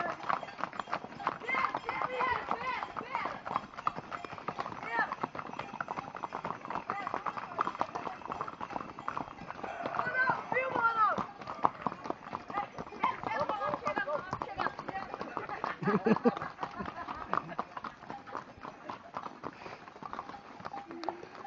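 Horse hooves clip-clop steadily at a moderate pace, heard beneath almost continuous talking voices for the whole stretch.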